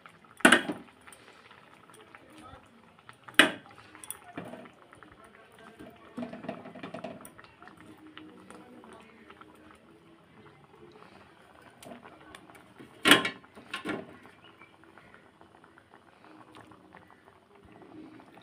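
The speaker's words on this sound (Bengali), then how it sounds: "এখন আমি এই যে মাছ সব ছেড়ে দেব।" Pieces of fish are dropped into a simmering coconut-milk curry gravy, giving a few sharp clanks and splashes over a quiet bubbling simmer, with pauses in between.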